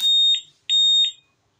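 A Honda car alarm module sounds its answer-back: two sharp, loud electronic beeps in quick succession, clean and close with silence between and after.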